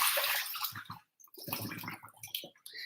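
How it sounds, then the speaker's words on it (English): Kelp noodles get rinsed under a running tap, water splashing and gurgling close by in uneven bursts with a brief pause midway, no voices. "I'm gonna rinse them off"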